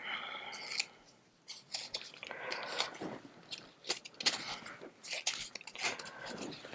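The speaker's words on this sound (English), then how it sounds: "I'm going to take my little scissors and just trim that up a little bit." Small scissors snip through recycled paper card for a handmade thank-you card, giving a run of sharp, close crisp cuts with brief pauses between bursts, fairly quiet and without talk.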